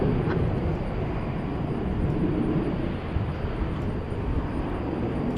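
A jet airliner rumbles at night at DFW Airport, a loud, steady broadband roar that holds without a break.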